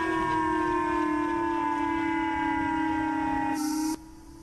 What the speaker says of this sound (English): Sirens blared from city speakers